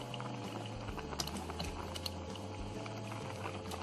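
Pasta cooking in a pot of boiling water, a quiet, close bubbling patter with faint low hum, no talking.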